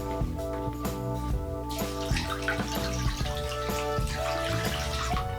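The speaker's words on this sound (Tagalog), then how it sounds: "Lalagyan natin ng tubig." Water from a tap pours steadily into a cooking pot, a continuous splashing rush with faint resonant ringing, close by and alone.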